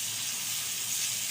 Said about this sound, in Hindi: तो तमाम सब्जियां हैं मैं मीडियम फ्लेम पे जो है ना फ्राई कर रही हूँ